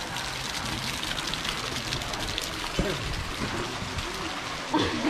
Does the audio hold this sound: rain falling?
yes